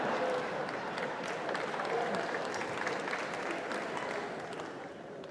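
Audience applause fills a comedy club during a French stand-up show, a dense, steady wash of clapping from a large crowd that holds loud for several seconds before easing slightly at the end.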